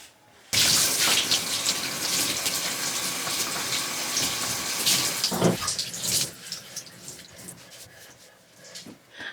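Water running from a tap while rinsing hair, a steady close gush that starts abruptly, flows continuously with some splashing changes, then tapers off near the end.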